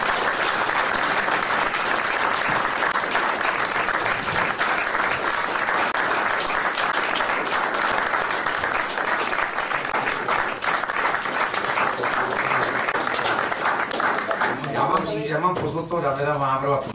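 An audience at a Czech scouting event claps loudly and continuously, a thick sustained wall of applause that fades out near the end as a voice begins to speak.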